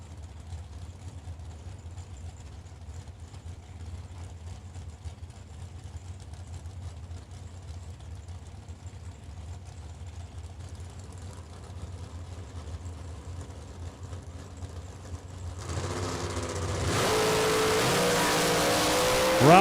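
A high-winding 358 cubic inch Dodge-powered dragster at a drag racing event idles with a low, steady rumble, then swells into a loud, rising roar near the end.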